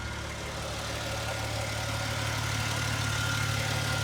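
A 1995 Jaguar Sovereign with a 3.2 litre straight-six, running on petrol, idles steadily at close range, a smooth, even low hum with no voices.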